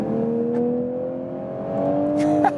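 An all-new Toyota Supra accelerates from 65 to 100 km/h, its engine note climbing steadily in pitch as a smooth, rising whine heard from inside the car, fairly faint and unbroken.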